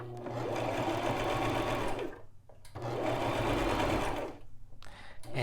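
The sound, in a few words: Brother LX3817 sewing machine sewing a knit blind hem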